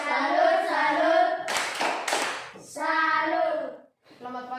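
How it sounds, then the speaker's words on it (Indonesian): A school class performs a rhythmic salute clap for group 2 in a classroom: several bursts of unison clapping are interleaved with children chanting together, and the claps land in short, patterned groups. "Tepuk salut untuk kelompok 2."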